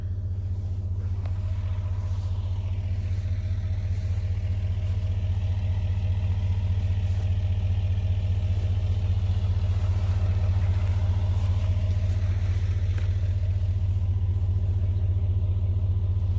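Truck rolling slowly over a downspout drain pop-up emitter on muddy, soft ground, a low steady engine rumble close by that swells gently and holds throughout.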